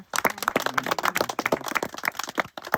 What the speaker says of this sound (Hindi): तो इनको भी हम लोग धन्यवाद देंगे ताली बजा करके